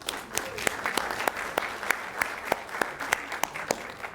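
A meeting room claps for a birthday honoree at a county commission regular meeting, a modest group's steady applause with a few sharp nearby claps standing out.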